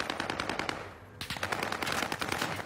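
PUBG gunfire sounds as rapid bursts of automatic shots, loud and close, with a short lull before the firing resumes.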